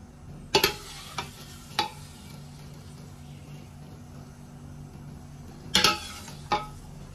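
A wok tossing braised pork ribs with green beans gives sharp metal clanks and scrapes in two clusters, with quiet sizzling between them.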